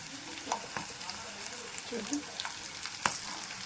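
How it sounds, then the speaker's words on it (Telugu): Onions with green chillies and curry leaves sizzle steadily in a pan for a mutton cashew fry, with a spoon scraping and stirring now and then, close and moderately quiet. "చూసారు, మనకి ఆనియన్స్ కూడా కొద్దిగా బాగా ఫ్రై అయిపోయినాయి."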